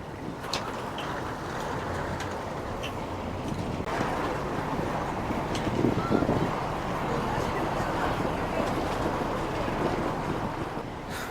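The MD Express ferry from Batam Center arrives at Pasir Gudang port with a steady engine and water rumble mixed with wind buffeting the microphone, and people talk nearby.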